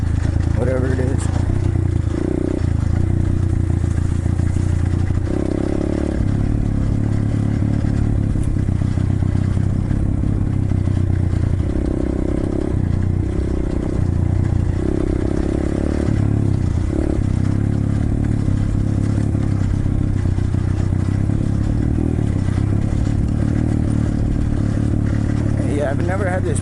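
A 125cc Chinese pit bike engine drones steadily during trail riding, a loud continuous rumble with shifting throttle and rattling clatter, while someone talks over it throughout.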